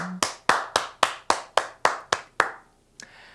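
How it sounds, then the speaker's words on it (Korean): A church congregation at Sunday worship claps in unison, about nine sharp, evenly spaced claps with a ringing decay, then one last softer clap after a short pause. "오늘도 우리 예배를 받으신 하나님께 우리 감사와 찬양과 영광의 박수 올려드립시다"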